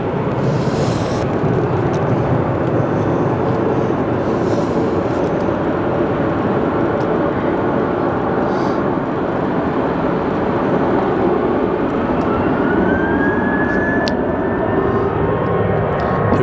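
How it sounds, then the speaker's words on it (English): A Southwest Boeing 737-700 airliner passes at Phoenix Sky Harbor Airport, its engines making a loud, continuous roar that holds steady throughout, with a faint rising whine near the end and no talking. "Here goes Southwest 737-700, Santa Ana bound."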